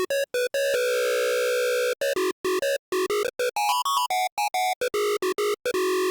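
An 8-bit chiptune lead synth built in VPS Avenger 2 with FM plays a bright, buzzy square-wave melody of short staccato notes and quick pitch jumps, clear and alone with no talking.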